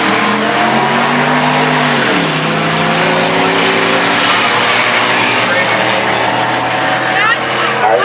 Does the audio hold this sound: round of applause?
no